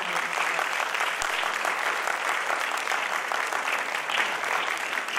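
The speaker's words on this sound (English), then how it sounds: "let us now give a very appreciative round of applause to all of them, to our young performers here this evening." Loud, sustained applause from an audience at a children's concert held at Naparima, a dense and even round of clapping from many hands that continues without a break and without any talking.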